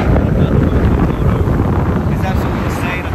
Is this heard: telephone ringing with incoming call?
no